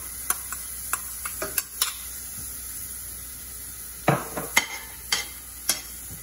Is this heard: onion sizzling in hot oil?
yes